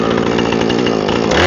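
A Husqvarna chainsaw fitted with an Oregon bar and skip chain cuts through logs, its engine roaring loud and steady at close range throughout, with no speech.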